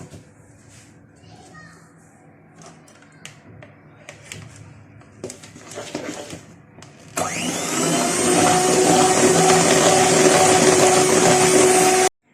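Electric mixer whirring loudly into cupcake batter, starting abruptly after quieter kitchen clatter and voices, then running as a steady high-pitched drone to the end.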